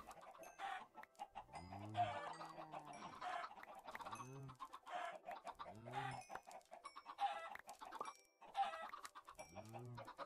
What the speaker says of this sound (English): Now we're gonna kill the chickens.